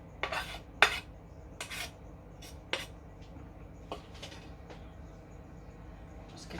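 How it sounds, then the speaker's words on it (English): Utensil scraping fried onions and bacon with their butter out of a pan into a sausage meat and breadcrumb stuffing mix: a few sharp metallic scrapes and clinks, close and moderately loud, spaced out over the clip with quieter gaps. "I'm going to add those to the sausage meat and breadcrumb mix, including the butter that they were fried in"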